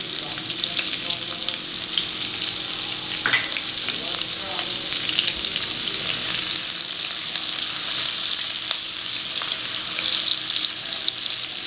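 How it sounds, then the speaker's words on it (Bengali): Chopped ginger, garlic, green chili and onion fry in hot oil for dry chili chicken, a loud, dense, continuous sizzle close up with a brief stir partway through and no talking. "গরম তেলে চলে গেল আদা কুচি, রসুন কুচি আর কাঁচা লঙ্কা কুচি আর পেঁয়াজ কুচি।"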